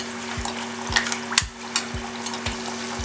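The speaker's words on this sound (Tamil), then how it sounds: "இப்போ ஒவ்வொரு பீஸாக எடுத்து நம்ம பொரிச்சு எடுத்துக்கலாம்" Rava snack pieces deep-frying in hot oil, a steady close sizzle and crackle with a few sharper splashes and stirring clicks as the pieces are turned, over a low hum.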